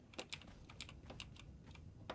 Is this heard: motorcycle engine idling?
no